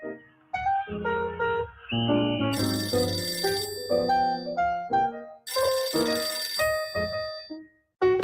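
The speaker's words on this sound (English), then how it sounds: "trying to forget about the holidays when the phone rang" A cartoon telephone rings in bursts of bright, melodic electronic tones, loud and alone with no talking, pausing briefly between rings over several seconds.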